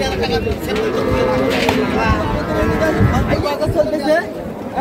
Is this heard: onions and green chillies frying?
no